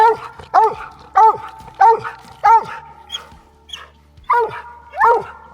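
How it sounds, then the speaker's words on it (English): Hunting dogs bark at game treed in the distance, a steady run of about eight sharp, ringing barks with a slight echo, heard alone without talk. "Here, Tony treed in the distance."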